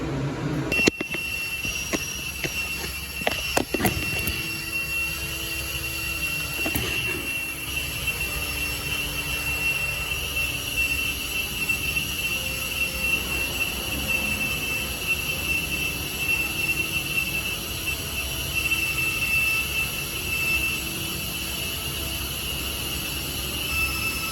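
Water rushing into a fire sprinkler system in a basement after a valve is opened, a steady hissing flow with a few clanks near the start, then an even continuous rush throughout.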